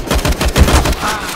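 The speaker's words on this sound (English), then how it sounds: "I shoot." Rapid bursts of gunfire from Counter-Strike: Global Offensive, several close, punchy shots in quick succession over a busy game background, with no talk.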